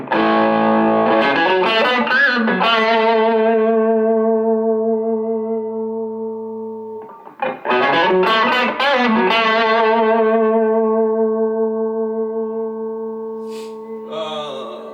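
Electric guitar through a Roland Street EX amp on a crunch setting with reverb and light chorus, two long strummed chords ringing out and decaying, loud and alone with no talking.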